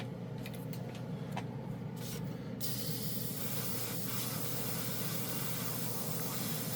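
Dspiae No Wash airbrush spraying with a 0.3 needle, a steady continuous hiss of air and paint that runs unbroken throughout, close and even in level.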